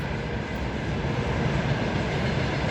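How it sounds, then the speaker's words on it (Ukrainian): A train passing through a town, a loud, continuous rolling rumble of wheels and cars held steady throughout, close by. "у нас в городі дуже чутно поїзди"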